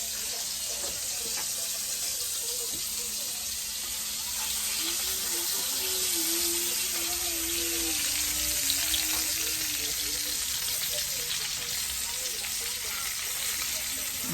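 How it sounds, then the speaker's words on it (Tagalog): Longganisa sausages simmering in water in a pan give a steady bubbling, sizzling hiss throughout, with a faint wavering tone partway through. "Pinapakuluan ko muna siya sa tubig."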